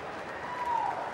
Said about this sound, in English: So Shane Warne acknowledges the applause from the crowd.